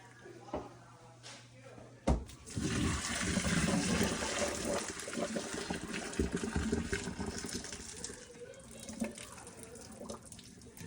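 Water from a pasta pot pours out through a colander into a sink, a sudden splash followed by a steady rushing, gurgling flow that lasts several seconds and then tapers off.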